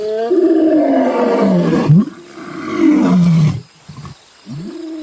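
Lions roar in the wild near a waterfront, two long, loud, deep roars in succession followed by the start of a third, close and unaccompanied by speech.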